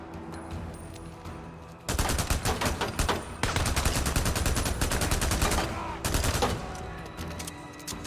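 Rapid machine-gun bursts from the Days Gone video game, loud and dense, run in long sustained volleys with brief pauses between them and no voices over the gunfire.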